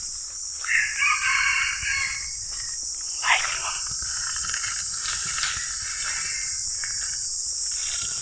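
Chickens and a rooster on a farm: a rooster crows a couple of times at moderate distance amid scattered clucks, over a constant shrill drone of insects.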